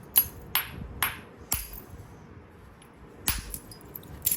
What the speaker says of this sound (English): Flint Knapping